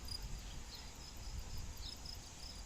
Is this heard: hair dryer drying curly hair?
no